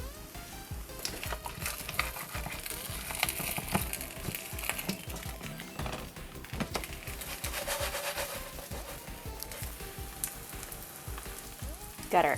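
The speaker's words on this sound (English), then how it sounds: "Got our other side frying up nicely." A vegan kimchi jeon pancake fries in oil in a pan, giving a close, crackling sizzle with irregular pops throughout.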